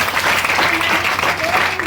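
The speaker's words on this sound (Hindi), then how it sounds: "सर के लिए जोरदार ताली होनी चाहिए" Loud, steady applause from an audience at a DXN business meeting in a hall, with dense continuous clapping throughout and a few faint voices mixed in.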